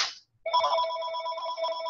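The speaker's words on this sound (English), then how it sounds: "I'm sorry, my phone is ringing." A phone rings nearby during an art exhibition, a bright warbling electronic ring that starts after a brief pause and carries on steadily and clearly, with no speech over it.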